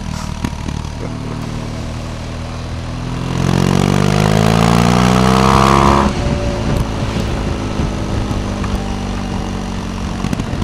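A car engine builds hard in the middle as it accelerates to overtake, rising strain with climbing pitch for a few seconds, then easing back to a steady cruising drone heard from inside.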